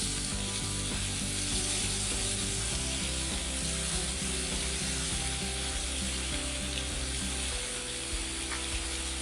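Butter sizzles loudly and steadily on a hot griddle for a low country boil, a dense close crackle with faint scraping underneath, running unbroken throughout.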